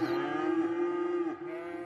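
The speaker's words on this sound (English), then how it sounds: "And we've got cows." Cows mooing in the city-building game Cities Skylines, one long, steady, tonal moo that drops in pitch at the end, fairly close and clear with no talking over it.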